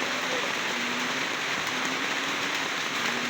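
Steady rain falls on an outdoor flood-prone neighbourhood, a dense continuous hiss of drops on surfaces, moderately loud and unbroken, with no talk.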